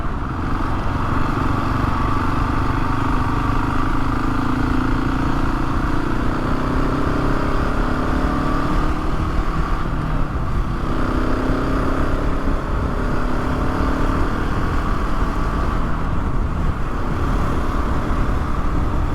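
A Husky 701 and a BMW GS Rally motorcycle cruise along a motorway near Taunton, producing a continuous droning engine note mixed with heavy rushing wind and road noise.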